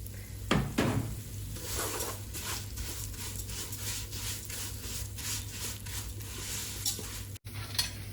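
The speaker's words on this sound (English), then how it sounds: "So we keep frying until the color turns golden brown" Quiet sizzling of shish barak dumplings frying in oil, with occasional stirring and scraping clinks against a pan.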